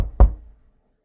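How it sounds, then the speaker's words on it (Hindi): A single heavy knock on a wooden door, close and loud with a deep thud that fades quickly into silence. "अचानक दरवाजे पर दस्तक हुई"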